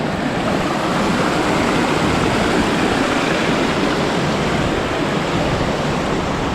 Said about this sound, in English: Another waterfall there